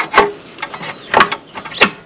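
A motorcycle front brake caliper, fitted with new pads, slides back over the brake rotor in three short scraping, rubbing metallic strokes, close and fairly crisp, with no voices.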